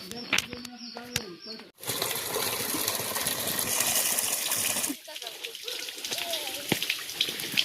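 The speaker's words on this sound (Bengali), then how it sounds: "এই যে রিপচন্দ্র এখন আসছে জল ধরতে জল চলে আসছে" Water gushes steadily into a water tank for several seconds in the middle, with birds chirping before and after and faint background voices, in a village in winter.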